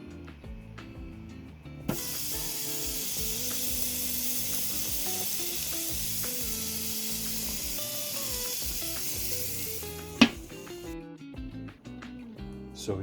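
Beef patty sizzling on a small Weber grill, a loud steady broadband hiss starting abruptly and holding for about nine seconds before cutting off, with a sharp clank near the end.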